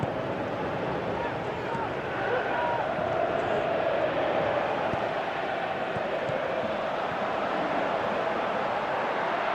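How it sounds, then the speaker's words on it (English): Stadium crowd noise from a PS3 football video game, a dense continuous roar of fans calling for a shot, steady and loud throughout with a slight swell partway. "Crowd calling for him to shoot."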